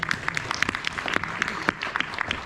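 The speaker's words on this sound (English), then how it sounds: "Big round of applause." An audience at a live-streamed talk claps, the individual hand claps sharp and distinct, sparse and fairly near, a loose irregular patter that never builds into a roar.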